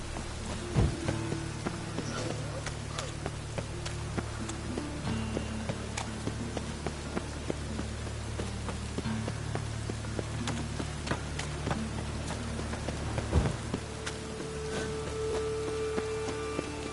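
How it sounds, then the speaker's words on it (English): Rain falling in The Witcher on PS4, a dense steady patter across the whole stretch with a low hum beneath and occasional faint thumps, no talking. "It's raining again."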